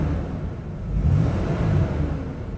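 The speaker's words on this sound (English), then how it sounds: "Go ahead and rev the motor up so you can hear the motor." A 2012 Nissan NV2500 high-top cargo van engine rumbles at idle and then revs up briefly, the low steady drone swelling and settling back, heard close with no talking.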